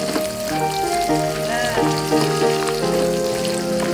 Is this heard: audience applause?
no